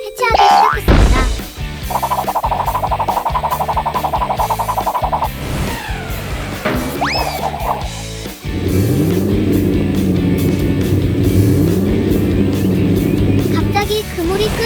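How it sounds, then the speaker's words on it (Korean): A hunting truck arrives in an animated cartoon, its engine revving and humming among cartoon sound effects and music, ending with a sustained, rising motor drone. "바로 그때 사냥 트럭 한 대가 도착했습니다."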